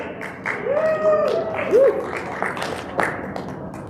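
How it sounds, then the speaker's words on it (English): Audience at a student leadership awards ceremony applauding, a dense sustained wash of clapping with a few cheers and whistles rising above it. "Big round of applause to yourself and all our winners and nominees"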